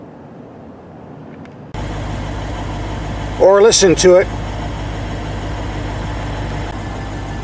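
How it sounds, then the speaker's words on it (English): A 2017 Lexus RC-F V8 idles with a low, steady exhaust rumble that starts abruptly and holds under a voice talking close by. "The only thing that sounds better than a good old-fashioned V8 is a nice modern Lexus V8."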